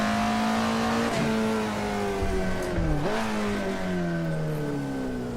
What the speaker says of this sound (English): Listen to that engine in the back.